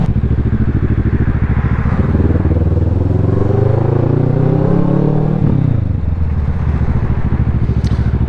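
A Kawasaki Ninja 650 motorcycle engine drones loud and close while riding, its pitch climbing steadily under acceleration, then dropping as the revs fall back, with wind rush throughout.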